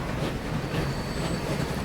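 Train running in the video game Transport Fever 2: a steady, continuous rumble of rolling rail wagons with a faint high wheel squeal, moderately loud and constant throughout, with no talking.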